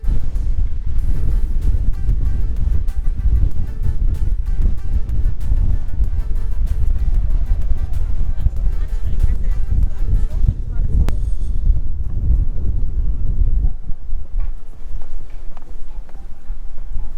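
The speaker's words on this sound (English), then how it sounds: "it's very windy" Strong wind at a scenic viewpoint in Ålesund, Norway, roars and buffets the microphone in a continuous loud low rumble, easing slightly near the end.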